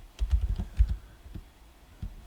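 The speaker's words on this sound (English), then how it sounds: "So actually if I type in here color ramp" Keys tapped on a computer keyboard while building a procedural plastic material in Blender, a short irregular burst of soft clicks, close and fairly quiet, with brief pauses between groups of keystrokes.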